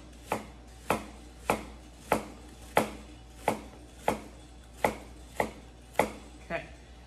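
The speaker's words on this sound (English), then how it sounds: "quarter of an inch down, quarter of an inch, quarter of an inch all the way through" A knife chopping an onion into julienne strips on a cutting board, about eleven crisp, evenly spaced knocks, close and clear with no voices.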